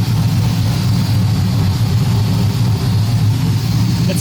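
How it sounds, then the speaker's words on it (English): A Chevy C10 squarebody truck runs on a dyno with a steady, loud, low engine drone. The rumble holds even and unbroken throughout. "Since it's spinning on the dyno,"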